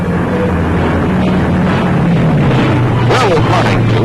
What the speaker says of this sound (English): These beautiful planes, looking like giant seagulls in the morning sky, are C-47s, paratroop planes.